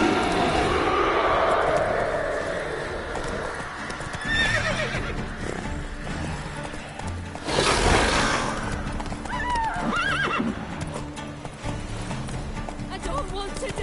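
A horse in The Witcher 3 lets out a loud whinny, then its hooves gallop in a steady rhythmic clatter, with a burst of commotion partway through and game voices speaking over the action.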